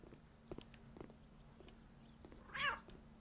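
A cat meows once near the end within the video game Cafe Owner Simulator, a short, clear mew over a quiet background of soft game footsteps and faint clicks.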